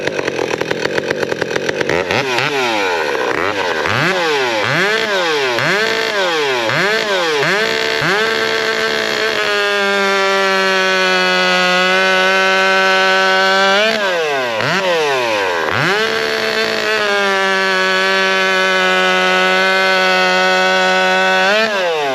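A Husqvarna 572xp chainsaw fitted with an Egan Performance Saws muffler pipe, loud and close, revving in repeated rising and falling bursts before holding a sustained high-pitched scream, then dipping and revving again.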